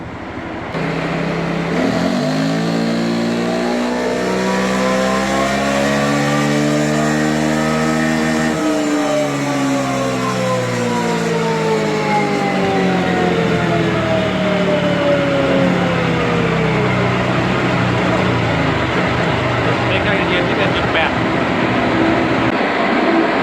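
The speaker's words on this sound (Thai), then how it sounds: "เดี๋ยววอร์มเครื่องก่อนหนึ่งรัน" Honda Forza 350 scooter on a dynamometer during a warm-up run, its engine droning loud and close as it revs up steadily through rising pitch, then holding and settling while the roller whirs beneath.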